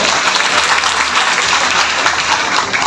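Loud, dense applause from a large audience at a BJP political gathering welcomes senior Vindhya-region MLA Nagendra Singh, a steady, even roar of clapping that holds for the whole stretch.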